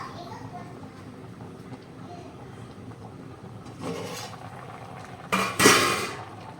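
A metal pot lid is picked up and clanks against the pot while fish curry cooks in a home kitchen. Two sharp, close clatters stand out over quiet background sounds, with voices talking faintly.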